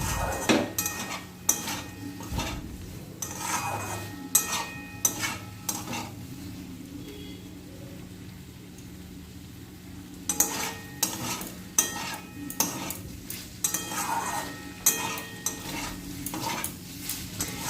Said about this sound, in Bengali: একটু ভাজা করে শুকনো করে নেবে